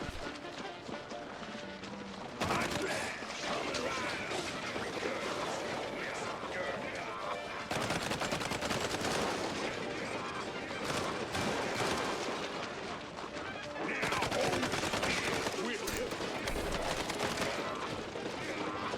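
Rapid bursts of video game gunfire and explosive blasts, some shooting in dense clusters and some in sharp single shots, with a player talking excitedly over the action.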